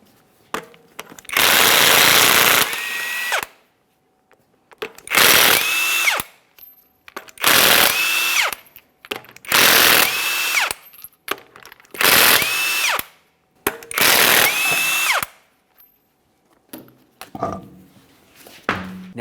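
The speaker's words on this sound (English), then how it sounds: "safely raise and support so you can remove all 6 of your 22mm lug nuts and then the wheel" Impact wrench or power tool spinning off the six 22mm lug nuts on a GMC Acadia wheel, six loud separate bursts of whirring and rattling a couple of seconds each, with short quiet gaps between.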